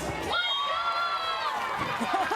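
A player screams out sharply during a USC versus UCLA NCAA beach volleyball semifinal, a loud high cry rising over a noisy outdoor crowd, followed by broadcast commentary.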